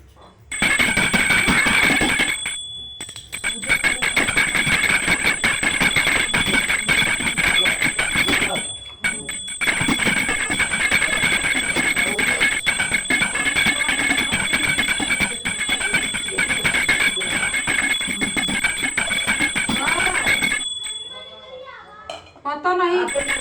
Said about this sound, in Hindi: लो घंटी बजा लो।